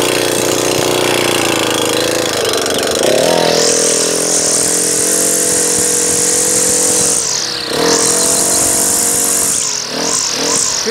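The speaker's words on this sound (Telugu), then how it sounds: "ఇంజిన్ స్విచ్ ఆన్ చేసేసుకొని" An 8 kg engine-powered small farm machine for row work runs loud and close in a steady drone, its pitch rising as it revs up and dipping briefly before settling again.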